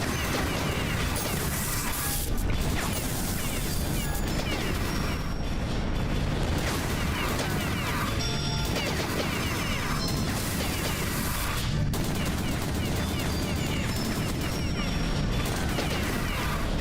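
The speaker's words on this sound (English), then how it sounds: "I'm going to shoot all these spiders with my gun" Gunfire in Beyond Citadel as an anime girl shoots spiders, a dense, unbroken barrage of loud shots, smashes and impacts with brief swooshes over nearly seventeen seconds.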